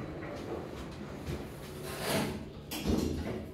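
Sliding lift doors at Manchester Airport close with a soft mechanical rumble and glide, ending in a couple of quiet thuds as they meet, faint and close by.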